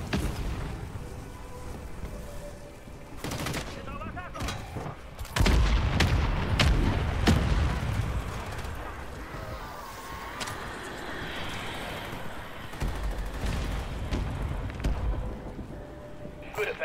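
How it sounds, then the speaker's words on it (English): Mortar strike explosions land in a shooter video game, several heavy booming blasts arriving in a cluster amid ongoing game noise, with a voice speaking over them. "Requesting fire mission. Target mark. Solid copy. Mortar strike on the way."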